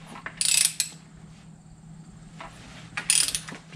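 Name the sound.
Suzuki motorcycle engine being rotated by hand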